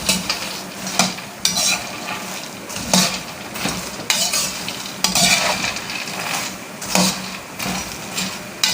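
Dry fruits and nuts frying for panjiri crackle in a pan as a metal spatula stirs and knocks the pan about once a second, loud rhythmic scrapes over a constant sizzle.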